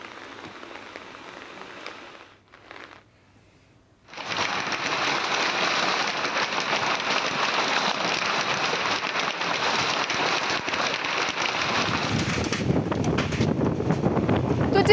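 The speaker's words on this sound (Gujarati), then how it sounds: "જે અવાજ આપ સાંભળી રહ્યા છો, એના પરથી જ સ્પષ્ટ થઈ રહ્યું છે કે કેટલો ભયાનક પવન છે" Strong, roaring wind gusts during a hailstorm with heavy rain in Kaprada, Valsad, Gujarat, as a loud continuous rushing blast that starts after a brief lull and stays steady, with some buffeting on the microphone.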